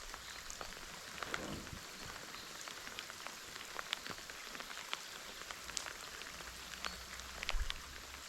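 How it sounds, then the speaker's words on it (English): Light rain patters on Upper Lake Matahina in New Zealand, a soft continuous hiss scattered with distinct close drops, calm and windless. "Sure, it's raining a little bit, but there's no wind at all."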